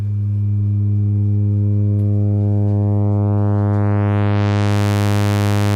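A Multiwaves synthesizer module holds a loud, steady sine tone that gradually tilts toward a buzzier saw-like wave, its upper harmonics sweeping in and brightening the sound by the end.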